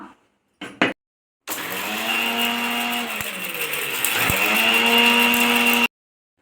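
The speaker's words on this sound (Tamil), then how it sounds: "இது ஃபஸ்ட்டு மிக்ஸியில் ஒரு அடி அடிச்சுக்கலாம்." A few quick clicks, then an electric mixer grinder grinding spices for mustard coconut rice starts up and whirs loudly and steadily for several seconds before cutting off abruptly.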